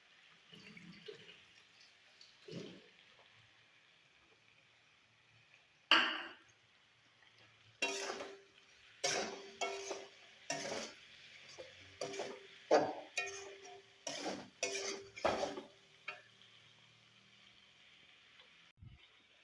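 Curry with turmeric, cumin, ginger and green chili stirred in a pan, the spoon scraping and clinking against metal in quick, uneven strokes after a few quiet taps, close and fairly soft.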